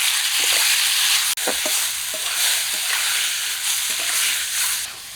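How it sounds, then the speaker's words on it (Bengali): Goat liver pieces frying in hot oil with salt and turmeric, a loud, steady, close sizzle with a few scraping stirs and one sharp clack of a utensil against the pan. "এই তেলে এখন মেটেগুলো নুন হলুদ দিয়ে অল্প ভেজে রাখবো"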